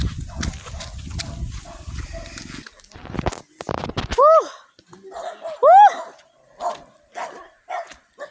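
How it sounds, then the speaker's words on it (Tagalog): Dogs bark a few times on a coconut farm, sharp and fairly close, with a couple of drawn-out howling yelps amid a noisy, busy background. "Huwag kayong kakahol-kahol, ha"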